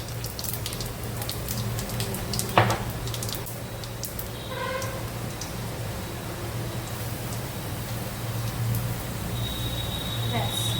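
Cumin seeds and dried chilies hit hot oil in a pan, giving a steady soft crackling sizzle with a few sharper pops, heard under a person talking.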